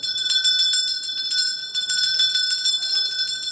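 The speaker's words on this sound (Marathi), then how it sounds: "ए तिसरी घंटा दे रे." A theatre's third bell rings continuously before a play starts, a loud, steady electric ringing with a bright sustained tone that holds throughout.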